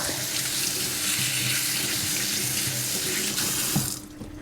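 Tap water runs steadily into a kitchen sink as leeks are rinsed clean of sand, a loud continuous gush that cuts off abruptly near the end.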